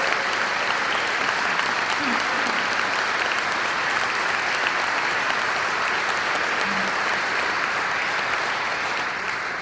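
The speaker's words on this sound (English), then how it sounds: "I think she deserves another round of applause" An audience at a Citizen of the Year award ceremony gives sustained applause, a thick, even wash of many hands clapping that runs unbroken for nearly ten seconds with no gaps.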